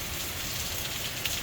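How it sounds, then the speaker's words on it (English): Light but steady rain falls ahead of Hurricane Helene, a close, even hiss of drops on surfaces with no voices over it. "This is pretty light compared to that one, even though it's a good rain."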